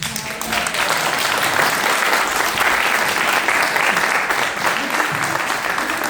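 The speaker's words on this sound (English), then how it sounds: "Let's give all of our candidates a round of applause." A political forum audience in Hampton, Georgia applauds its candidates with sustained, dense clapping that holds steady and loud for about six seconds.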